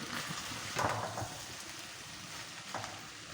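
Okra hits a pan of frying masala of tomatoes and onions, giving a soft, steady sizzle with stirring scrapes and brief crackling flare-ups, fairly quiet and close.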